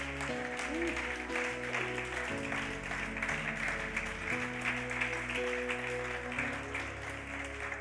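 A church congregation claps together through a sermon on intercession, a dense steady patter of hands over sustained keyboard chords that shift every few seconds.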